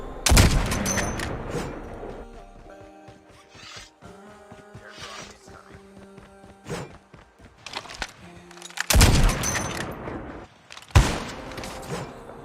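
Gunfire in the Warzone video game: rapid, loud bursts of shots at the start and again later, with quieter scraping and rustling game sounds in between.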